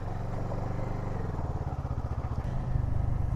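A Kawasaki ER6N twin motorcycle ridden on an Easter Sunday morning in Sidemen, Bali, with its engine giving a steady, low, pulsing drone close by that rises slightly toward the end.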